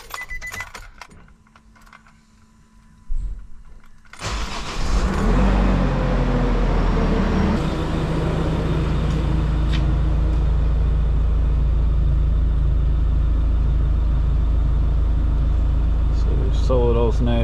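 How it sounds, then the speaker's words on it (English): After a quiet stretch with faint jingling, a Nissan Navara NP300's engine cranks and catches after a dual battery install, then settles into a loud, steady idle with a low hum. "let's start the car and see if anything catches on fire."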